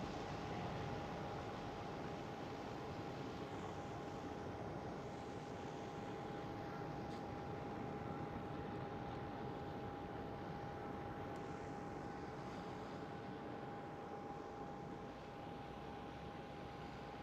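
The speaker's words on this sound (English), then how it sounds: "There goes the Qatar Airways 777." Qatar Airways Boeing 777 airliner at Schiphol airport, a steady, broad engine rumble and roar held at an even level throughout, distant and unbroken, with a faint constant tone over it and no talking.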